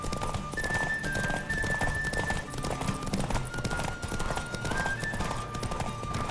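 Horse hooves pound in a fast, steady galloping rhythm during a horse race in The Witcher 3: Wild Hunt, with a rushing background and a thin tonal whine overhead.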